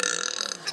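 A man lets out a single short, raspy burp lasting under a second, close and fairly loud, with no talk over it.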